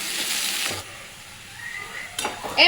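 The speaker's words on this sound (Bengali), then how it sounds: "পেঁয়াজ ভাজা হয়ে গেছে" Onions frying in a pan during home cooking for Mughlai paratha, a steady hiss of sizzling with stirring scrapes, then quieter, ending with a few sharp clinks of utensils against the pan.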